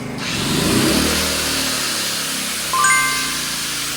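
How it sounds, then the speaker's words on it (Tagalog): A steady motor whine from a 750-watt angle grinder runs loud and close, rising briefly near the end, with an inverter generator droning underneath. "Testing natin yung ating grinder, 750 watts."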